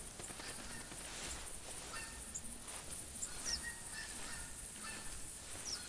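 Spooked geese honking in a deer-hunting video game, several raised calls scattered over a steady outdoor ambience, fairly faint and distant, with no talking.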